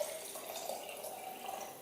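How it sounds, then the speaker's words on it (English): Water, including Kangen water, is poured into a container over mint green tea bags, making a steady, close trickling splash that lasts the whole short moment. "I'm going to pour some Kangen water."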